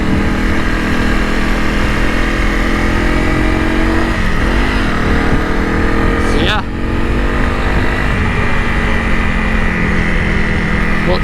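A Honda CRF 300 Rally adventure motorcycle riding along a road, a steady loud engine drone with heavy wind rush and one brief gear change, while someone talks over it throughout.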